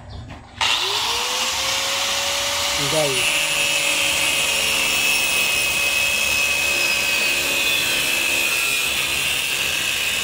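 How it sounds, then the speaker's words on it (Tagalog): A grinder works on an antique-style medallion of gold with red, a steady loud whine with a tone that rises then holds, running continuously under brief talk. "Grinder talagang ginamit"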